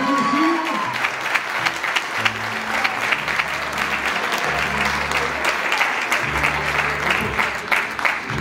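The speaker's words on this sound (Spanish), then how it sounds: "¡Fuerte el aplauso!" An audience at a mariachi concert gives a loud, sustained round of applause lasting several seconds, with dense steady clapping from a sizable crowd and faint low tones underneath.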